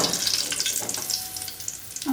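Three dried red chilies sputter and sizzle in hot oil in a pan, a steady, fairly quiet crackle with small pops running throughout.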